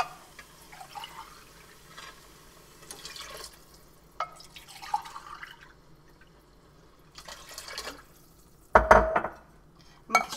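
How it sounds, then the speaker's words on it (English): Water from cans is poured into an Instant Pot with tomato soup and onions, giving intermittent splashes and trickles broken by quiet gaps, then ending in a louder metallic clank and gush. "You're going to add in approximately 3 cans of water"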